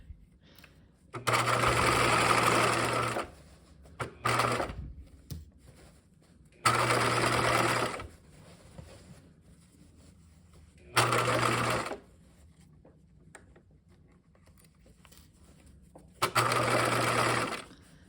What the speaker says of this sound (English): you're good to just stitch, back stitch